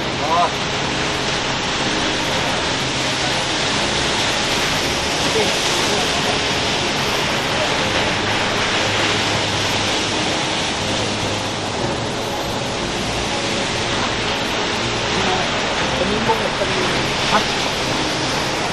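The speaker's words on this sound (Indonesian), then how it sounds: "air terjun Panimbung." Steady, dense roar of rushing water from the Panimbung waterfall near Torean, Lombok, Indonesia, close by, continuous and loud throughout with no pauses.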